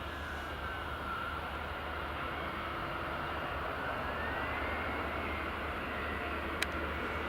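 An EasyJet airliner on final approach to runway 24 at Edinburgh Airport produces a continuous, even engine rumble with a faint whining tone, heard alone at moderate distance.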